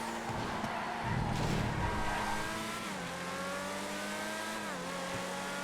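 A supercar in the GTA FiveM racing game drives hard, its engine droning and shifting pitch while tires squeal and skid through a corner, steady and close.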